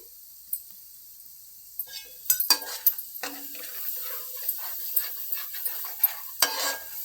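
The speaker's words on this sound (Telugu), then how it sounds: "ఇది అడగంటకుండా జాగ్రత్తగా కలుపుకోవాలండి" A spoon stirs spices, including fenugreek, in a pan for Andhra-style fish curry, with a soft sizzle underneath and irregular scraping and clinking strokes against the metal, close by and fairly quiet.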